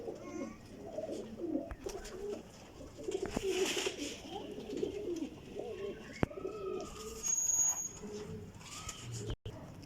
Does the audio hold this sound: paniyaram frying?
no